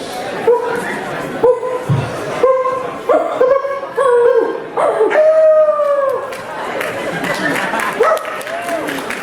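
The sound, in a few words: people imitating dogs barking and howling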